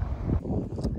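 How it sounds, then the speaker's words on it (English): Gusty wind buffets the microphone with low rumbling bursts near a lake in Älvdalen, Sweden, steady throughout and fairly close. "A bit windy today."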